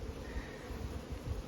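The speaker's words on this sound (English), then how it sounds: "There's more bees in there than I thought there was going to be." Honey bees hum in a dense, low buzz from the top hive box, a soft continuous drone heard briefly and up close.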